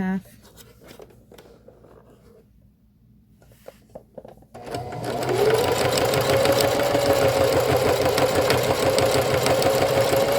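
A sewing machine stitches a skirt, starting after a quieter stretch of handling clicks and then running as a steady, loud mechanical whir with rapid needle rhythm and a rising motor tone until the end.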